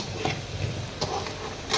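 Beef chunks frying in a pan while being stirred, a steady sizzle broken by scraping strokes of the spoon at a close, moderate level, with no one speaking.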